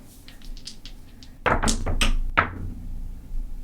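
Dice are thrown on a craps table: a few soft taps, then a clattering burst of several knocks as the dice hit and bounce, followed by a final knock.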